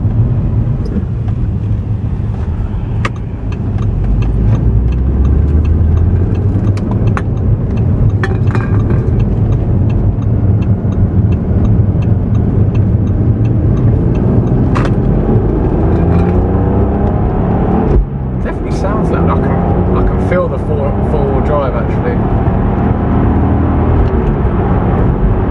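Audi A3 3.2 V6 engine under way, a steady loud rumble with rising and falling revs throughout, a brief dip partway through.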